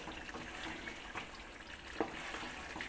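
Spiced mutton, cooked without oil, being stirred in a pot with ground garam masala: a soft steady sizzle with faint scraping and one small clack, close and quiet.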